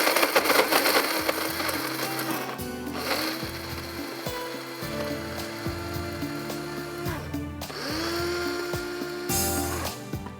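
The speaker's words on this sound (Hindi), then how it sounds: "ये मिक्सी है बहुत ज़बरदस्त किस्म की, आराम से पिस जाती है सारी चीज़ें।" An electric mixer grinder whirs loudly and unevenly as it grinds spice masala with green chilies and coriander, the motor surging and stuttering in short bursts with rattling grit throughout.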